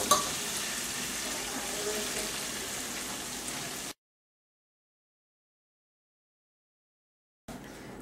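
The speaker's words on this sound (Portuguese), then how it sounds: "Misturar bem e deixar ferver." Ground beef stroganoff sauce with ketchup and water sizzles and bubbles in a pan, a steady close frying hiss for about four seconds before cutting to silence, then briefly returning.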